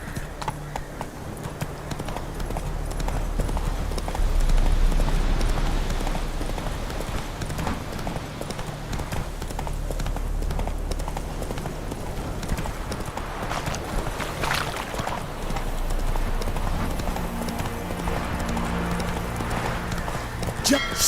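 Horse hooves trotting in The Witcher 3: Wild Hunt, a rapid, continuous clip-clop beat carried throughout under game music and ambience, with a voice talking over it.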